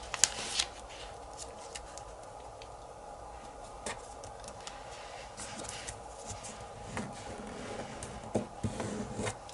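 Origami paper for a ninja star is handled and folded up close, with soft crinkles, rustles and sharp creasing snaps scattered over a quiet background.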